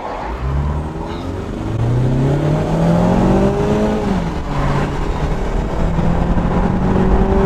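Loud, continuous engine roar heard from inside a Toyota Camry racing a Mazda 6 at highway speed. The harmonic drone rises in pitch under steady road and wind rumble as the car accelerates, with no voices.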